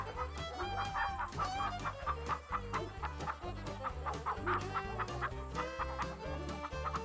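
A flock of animated cartoon chickens clucks busily and continuously close by, with a rooster's crow breaking through.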